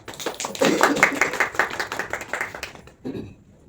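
A group claps in a steady burst of applause for a few seconds, then it breaks off and a brief voice follows.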